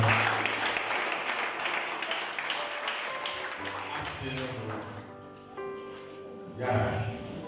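A church congregation applauds and cheers to acclaim the Lord after prayer, with dense clapping that blends with voices and sustained music tones, thinning midway before a brief swell near the end.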